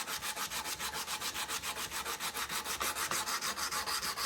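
Steady back-and-forth sanding strokes with 120-grit abrasive on the steel trigger guard of a Remington 722 rifle, a fast even rhythm of close, rasping scrapes with no talking.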